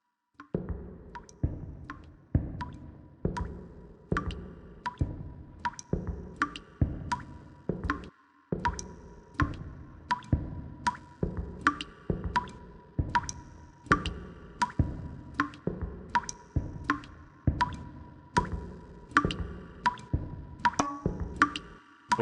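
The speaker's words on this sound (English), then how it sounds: "There's a pipe that's always leaking right above it." Steady, evenly spaced water drips from a leaking pipe in the mobile game Blindscape, each a sharp plop ringing over a faint hum, continuing for a long stretch with no talking.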